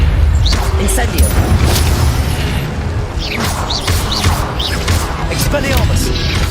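An Incendio fire spell cast in Hogwarts Legacy, heard as dense crackling bursts and mechanical clatter with loud low rumble throughout, mixed with busy combat effects and game voices.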